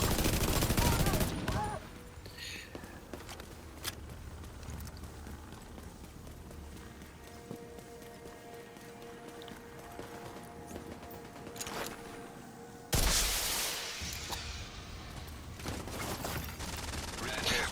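Heavy sustained automatic fire from a minigun enemy in The Division 2, a loud crackling barrage at the start and again near the end, with lighter scattered gunshots and game noise between.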